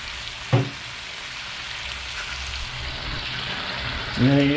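Pork tocino frying in cooking oil in a pan, giving a steady, close sizzle throughout, with brief voiced sounds near the start and the end.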